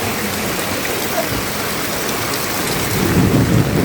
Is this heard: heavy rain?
yes